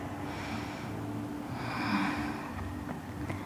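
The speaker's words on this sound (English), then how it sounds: "breathe 3 long breaths here" Three slow, long breaths drawn in and let out during a yoga session, soft and close with a gentle swell in the middle, set against a quiet, steady room background.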